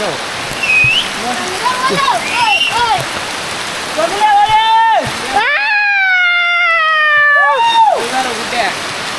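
Steady rain pours and spatters in the background while a person talks loudly nearby in drawn-out, sing-song tones.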